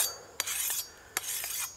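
An axe blade is drawn across a Work Sharp sharpener in two rasping strokes, each opening with a sharp metallic scrape and fading to a gritty hiss, close and without talk.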